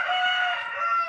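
A rooster crows in one sustained call among chickens in a village yard, loud and close with a rising then steady harmonic tone, alone without talk.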